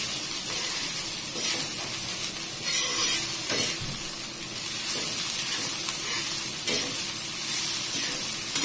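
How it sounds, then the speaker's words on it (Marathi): Sprouted masoor lentils sizzle steadily on a hot griddle, frying crisp with occasional stirring scrapes, a continuous moderate hiss and no speech. "आता आपण हे तव्यावरची कुरकुरीत उसळ करतोय मसूरची"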